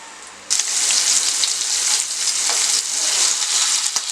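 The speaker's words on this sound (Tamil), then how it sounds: "இந்த சிக்கனை வந்து நம்ம ரோஸ்ட் பண்ணிக்கலாம்." Chicken pieces dropped into hot oil in a pan, bursting into loud, steady sizzling that continues with crackling pops, no talk over it.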